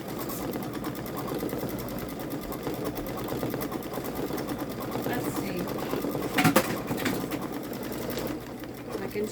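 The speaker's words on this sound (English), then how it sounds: "I can show you while it's stitching out." A Babylock Solaris Vision embroidery machine stitches out a small luggage tag in the hoop, whirring in a fast steady needle rhythm at close range while a person talks over it.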